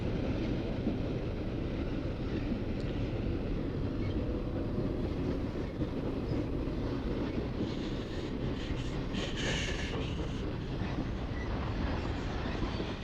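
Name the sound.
stack train passing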